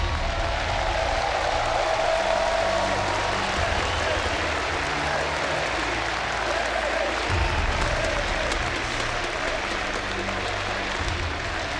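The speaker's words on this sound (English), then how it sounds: "In Katowice, you've done it once again, cheering for SKT" A large esports arena crowd at IEM Katowice claps and cheers for SKT after the League of Legends grand final, a dense, continuous roar of applause that fills the whole stretch while a voice speaks over it.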